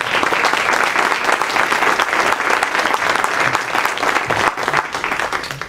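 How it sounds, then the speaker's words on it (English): Audience applause fills a large room, dense and steady clapping from many hands that stays loud throughout before easing slightly at the end. "So let's give them a double round of applause."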